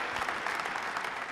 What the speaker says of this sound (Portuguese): eu queria pedir que a igreja desse um aplauso a Jesus